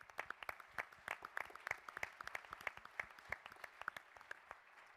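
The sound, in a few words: audience applause for industry sponsors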